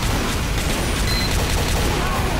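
Gunfire in a Team Fortress match with a sniper rifle in play, heard as a dense, steady clatter of shots and booms blending into constant battle noise, no clear isolated shot.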